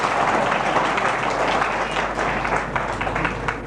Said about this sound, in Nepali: ठोक्नुहोस् ताली